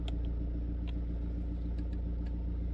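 A diesel car engine runs steadily just after being switched on, a low continuous rumble with a constant drone and faint intermittent clicks, close and fairly loud.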